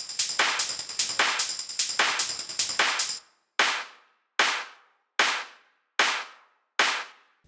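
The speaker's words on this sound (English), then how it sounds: "And then you can obviously add in the clap," A hard techno clap sample first lands over a hissing hi-hat and shaker loop, then repeats alone as five sharp, evenly spaced claps with short decaying tails.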